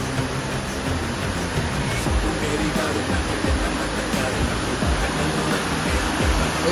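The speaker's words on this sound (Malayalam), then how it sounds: "അടിപൊളിയാ വെള്ളച്ചാട്ടം." A waterfall roars in a constant, dense rush of water, loud and unbroken throughout, with faint voices beneath it.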